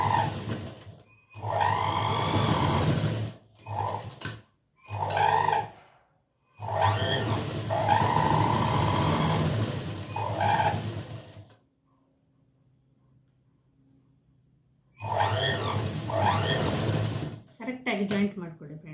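A sewing machine stitches cups to the side of a normal blouse at a quarter-inch seam in several close, loud runs separated by short pauses, with a voice speaking around the bursts.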